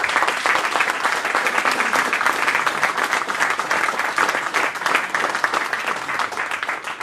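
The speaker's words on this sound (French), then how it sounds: "Je pense qu'on peut applaudir." A conference audience gives dense, steady applause after a talk on trout fishing with lures, with many hands clapping together at an even level throughout and no voices on top.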